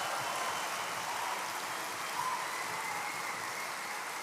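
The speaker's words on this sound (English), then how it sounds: "I say that not to get that applause, honestly." Sustained applause from a conference keynote audience fills the room, a dense, even patter of many hands clapping steadily throughout with no break.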